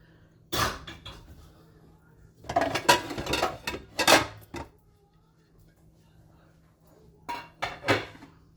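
Metal pot lid clattering against a pan in a home kitchen while making shrimp curry, several sharp clanks and scrapes in short bursts with pauses between, close and fairly loud.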